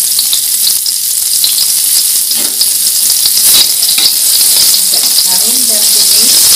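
Shallots frying in a pan for nasi goreng, giving a loud, dense, continuous sizzle with faint scraping from stirring underneath.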